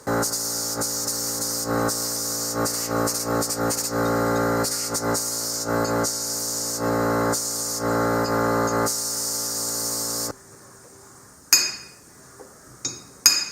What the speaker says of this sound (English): I'm going to use some compressed air, and I'm going to completely blow all this out.